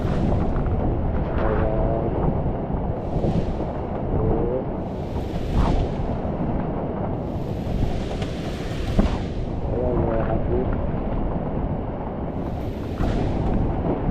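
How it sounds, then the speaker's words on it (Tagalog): Strong storm waves crash on a windy beach in Bucana, repeated heavy surges and hissing wash every few seconds over constant wind rumble, with a brief voice heard once. "Alright, malakas pa rin ang alon."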